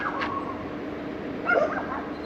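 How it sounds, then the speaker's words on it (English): A couple of short yips and whimpering barks from dogs next door at a campsite come through at moderate distance, one near the start and a louder cluster later, over quiet background. "apparently we've got some dogs next door"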